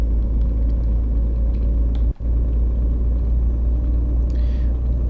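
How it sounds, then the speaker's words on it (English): A steady low truck engine rumble from the video game On the Road drones on continuously, broken by one brief dropout partway through, with no talking. "Decent lorry sounds and everything, engine sounds"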